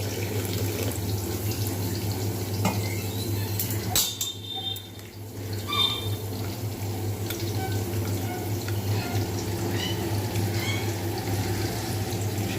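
Water is added to ground spices and garam masala powder and mixed for a paneer and cauliflower curry. Steady running and splashing water over a constant low hum, with a few faint clinks.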